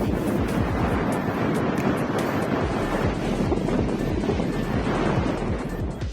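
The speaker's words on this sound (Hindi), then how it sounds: "बहुत ही तेज़ हवा चल रही थी" Strong wind and waves on Sernabatim beach in Goa make a steady, full rushing roar with constant wind buffeting on the microphone and no voices.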